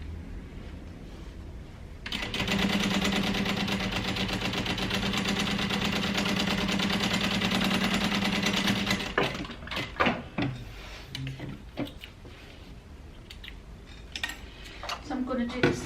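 A sewing machine top stitches a crossbody bag in one steady humming, rapid stitching run of about six seconds, followed by clicks and handling noises as the fabric is adjusted.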